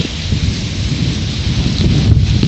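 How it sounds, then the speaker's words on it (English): Heavy rain falling in a windy storm, a loud, dense, steady wash of rain with low rumbling gusts that swell toward the end, no voices. "Aw, man, it's raining too much."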